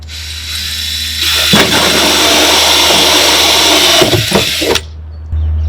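A power drill whirs loudly for a few seconds as it bites into a plastic barrel, cutting a 2 3/8 inch hole, with a grinding edge, then cuts out, leaving a low hum.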